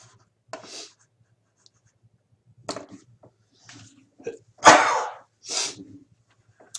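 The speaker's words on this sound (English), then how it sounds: "All right, there's a sneeze too." A single sharp sneeze bursts out amid quiet room sounds, with a few faint scratches and soft throat noises before and after.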